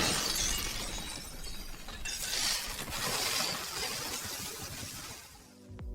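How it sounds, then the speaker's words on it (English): A loud, sustained crash of a glass explosion with a heavy splash of water and a rushing wash of debris, dense and close throughout. "A tiny tink, a massive glass explosion, the heavy splash of water, and violent,"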